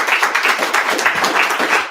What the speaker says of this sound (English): clap her all the way to the stage